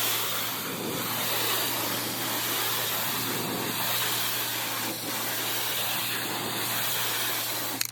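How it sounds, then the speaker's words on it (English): Pump-up sprayer steadily misting cleaner onto a fence, a continuous close hiss of spray running without break and with no voices. "So you'll just do this with your pump up sprayer, sections at a time."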